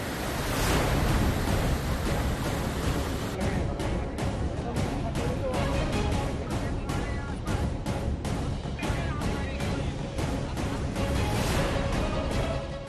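The Sharda river runs in monsoon flood in Uttar Pradesh, making a continuous, loud rushing roar of water. Heavy wind buffets the microphone throughout.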